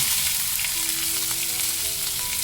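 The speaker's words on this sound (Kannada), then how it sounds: "ಇದೆಲ್ಲ ಚೆನ್ನಾಗಿ ಚಟಪಟ ಆದ ನಂತರ ಸಣ್ಣದಾಗಿ ಕಟ್ ಮಾಡಿಕೊಂಡಿರುವಂಥ ಈರುಳ್ಳಿನ ಹಾಕೊಳ್ಳೋಣ" Finely chopped onions sizzle steadily in a little oil with curry leaves and cumin over a medium flame, a close, continuous frying hiss with no voices.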